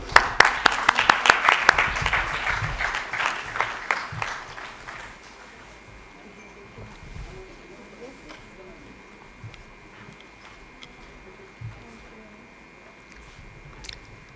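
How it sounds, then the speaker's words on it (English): An audience at an event applauds for about five seconds, a dense burst of clapping that quickly thins and fades into quiet room tone with a few scattered claps and soft noises. "I think we can keep the applause going"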